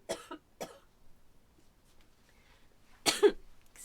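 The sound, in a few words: cough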